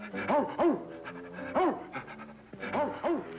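A man imitates a panting dog with rhythmic paired huffs, repeating in three quick bursts separated by short pauses, close and fairly quiet.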